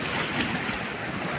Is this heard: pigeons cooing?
no